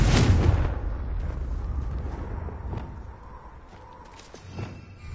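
A Confringo blasting spell explosion in Hogwarts Legacy, a loud booming burst at the start that decays into a long rumbling tail, with smaller game sounds scattered after.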